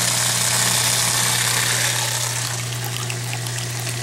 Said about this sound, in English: This little pump down here, she's a running, but you know, it's kind of cavitating a little bit.